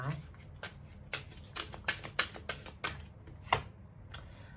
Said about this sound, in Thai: เปิดไพ่นะคะ เพิ่มอีกหนึ่งใบให้กับ Tree of Wands